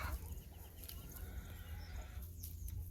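Egg-laying hens clucking on a farm, scattered soft clucks and brief calls over a low steady background hum, fairly quiet and without voices.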